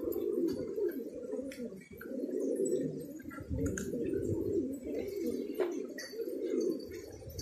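Pigeons in a loft coo continuously in low, throaty rolling calls, fairly close and overlapping, with faint chirps and small clicks scattered above.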